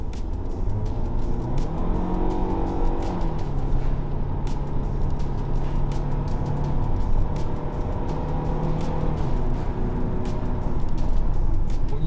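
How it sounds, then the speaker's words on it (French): Naturally aspirated engine of a Hyundai Tucson, heard from inside the cabin in normal drive mode, gives a steady loud hum whose pitch climbs and drops through several gear changes, with no talk over it. "c'est un moteur atmosphérique, donc on l'entend vraiment dans l'habitacle"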